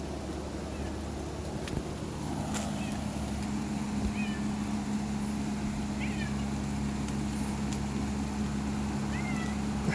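A cat named Bagheera meows repeatedly outdoors during rain near grazing cows, sharp rising calls spaced over a steady background hiss of rain and a low hum.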